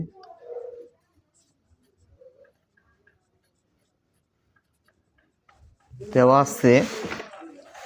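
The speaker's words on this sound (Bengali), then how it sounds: "তাহলে যে দুইটা মান দেওয়া আছে এই দুইটা মান লিখবো আগে" A pen scratches across paper while a math problem is worked out, a brief burst of soft writing strokes at first, then near silence, before a voice speaks close by near the end.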